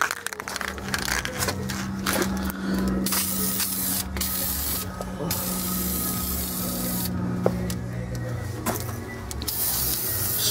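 Steady aerosol spray of open gear lubricant hissing continuously for several seconds, with a low mechanical hum underneath and occasional short bursts and clicks.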